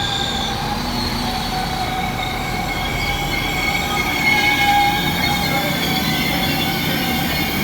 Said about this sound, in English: This is the 11:20 Transport for Wales service to Llandudno Junction via Chester.